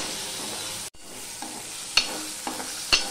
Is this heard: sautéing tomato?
yes